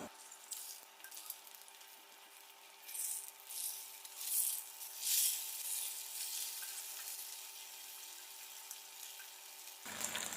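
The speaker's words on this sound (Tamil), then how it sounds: "மீன் நல்லா ஃப்ரை ஆகிட்டுருக்கு மீன் ஃப்ரை ஆகிடுச்சு இப்போ நம்ம இன்னொரு சைட் திருப்பி போடலாம்" Fish frying in a pan, a faint steady sizzle with a soft hiss rising and falling throughout, no voices.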